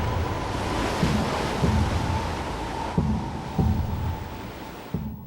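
Ocean waves and surf on the open sea about 100 metres offshore, a constant loud wash of water with periodic low thumps of swells and wind buffeting the microphone.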